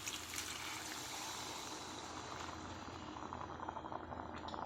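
Water poured into a pot of home-cooked chicken curry, a steady broadband splashing and hissing rush that runs unbroken for several seconds, close to the microphone with no voices.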